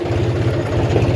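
A tractor engine idles in a farm field, its low, even chugging pulses repeating steadily and close by, with no talk over it.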